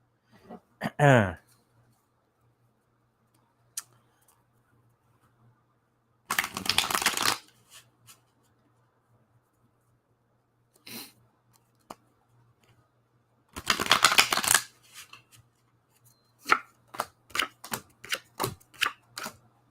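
Tarot cards are shuffled up close in crisp riffling bursts, two longer shuffles separated by quiet gaps, followed by a quick series of sharp card snaps and taps.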